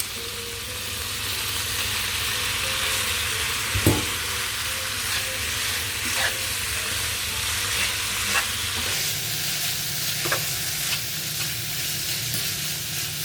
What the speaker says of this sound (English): Prawns are well fried. It's been frying for 3-4 minutes.